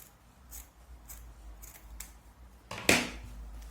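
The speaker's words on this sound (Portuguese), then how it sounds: "é só eu cortar o excesso" Scissors snip away excess fabric beside a sewn seam, leaving a seam allowance; several quick close-up cuts in a row, ending in one louder, longer snip, with no talking.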